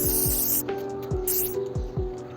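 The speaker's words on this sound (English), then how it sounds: "I generally first use a spray, fixing spray. This is the Swiss Beauty fixer." A Swiss Beauty makeup fixing spray bottle gives two short, close, hissing mist bursts about a second apart, loud and crisp with quiet pauses between.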